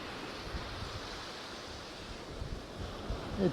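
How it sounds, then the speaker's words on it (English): Wind and surf on an Aberdeenshire beach while flounder fishing, a steady broadband roar of breaking waves and gusting air, constant and fairly close, with no voices. "That wind's fairly picking up."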